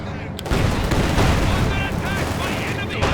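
Tank battle in the video game Company of Heroes 2, where a T-34 meets Panzer forces: dense continuous gunfire and explosions, with sharp bursts and whistling shells that layer into a loud, busy wall of combat.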